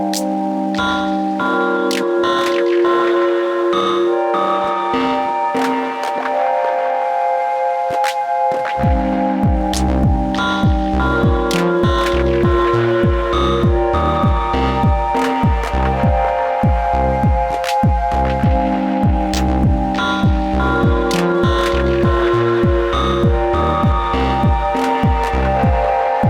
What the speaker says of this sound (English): And we'll add more reverb oscillation.